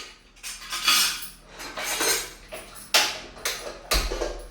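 About 200 grams of peanuts poured into a kadai, heard as several bursts of dry rattling and clattering against the metal pan, each swelling and fading, close and fairly loud with no talking.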